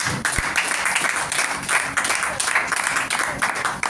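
Church congregation clapping and applauding together during a worship service, steady dense applause that fills the space, with voices mixed in.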